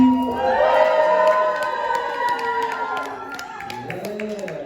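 A crowd at a live hip-hop performance at the Intertribal Friendship House in Oakland, California screams and cheers loudly and continuously, with scattered clapping, the roar slowly easing off.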